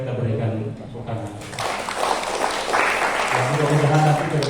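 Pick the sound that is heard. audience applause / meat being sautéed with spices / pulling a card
audience applause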